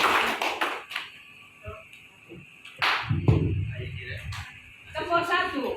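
A group claps once together and then slaps their thighs once in a teacher-led Indonesian clapping routine. The two sharp, fairly close hits cut through ongoing talk, and the second one lands as a duller, heavier thump.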